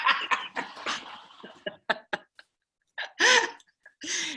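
Short bursts of coughing during a call, a few sharp irregular hacks separated by brief pauses, fairly close and moderately loud.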